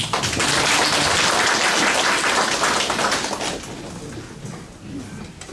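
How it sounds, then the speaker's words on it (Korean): Cooperative members at a pepper seedling cultivation training applaud to welcome their cooperative head on a rainy day: a dense, loud wash of clapping that thins and fades over the last couple of seconds. "큰 박수로 환영해 주시기 바랍니다."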